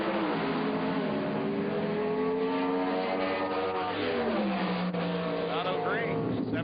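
A small Eficano Competition Eliminator dragster at an NHRA drag race roars loudly, its engine pitch climbing steadily as it launches and pulls down the track, while an announcer talks over the noise.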